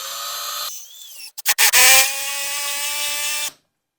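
A power drill drives screws while mounting a homemade whitetail deer mount, a steady whirring motor broken by a few stuttering bursts and then a sustained high whine before stopping abruptly.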